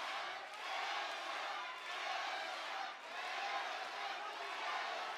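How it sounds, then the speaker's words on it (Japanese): A large kickboxing arena crowd in a Tenshin Nasukawa vs Yuta Murakoshi bout, rhythmic chanting of Tenshin's name mixed with cheers for Murakoshi, swelling in steady waves throughout, loud and continuous. "天心コール、そして村越への声援交錯しています。"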